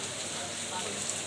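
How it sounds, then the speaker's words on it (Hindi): Heavy rain pours down hard enough to make street drains overflow, giving a dense, steady hiss of water on surfaces that fills the whole short moment. "आज बहुत ज़्यादा वाली बारिश हो रही है।"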